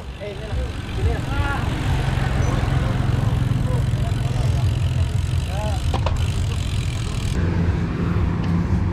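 Motorbike engine held on the throttle at steady speed around 40 on a road ride heading to Stadion 29 November in Sampit, a continuous loud drone with wind rush and brief chirping sounds over it, no talk.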